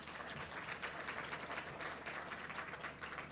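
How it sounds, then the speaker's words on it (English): An audience at a Herzliya conference claps in a dense, continuous wash of applause that holds steady throughout. "I applauded as well when he said that."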